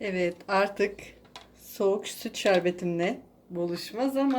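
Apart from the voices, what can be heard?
No everyday noises stand out.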